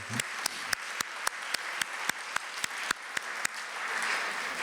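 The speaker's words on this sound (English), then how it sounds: "Let's give that a big round of applause" Applause from a crowd at a school district board meeting, a steady wash of clapping with a few sharp, evenly spaced claps standing out near the microphone.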